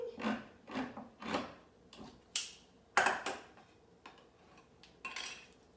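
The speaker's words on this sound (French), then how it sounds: "Maintenant, je vais ouvrir la boîte à la citrouille." A can of pumpkin is opened in a home kitchen while making pumpkin bread: a series of sharp metallic clicks and scrapes, several short bursts spaced about a second apart, close and fairly quiet, with no talking.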